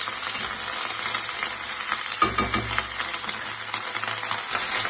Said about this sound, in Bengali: সিমগুলো দিয়ে একটু নাড়াচাড়া করবো।